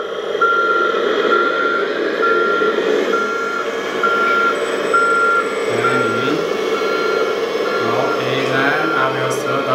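A toy 4x4 dumper truck reverses while its electronic reversing alarm beeps at a regular pace over a steady motor hum, with a short lower warble near the end.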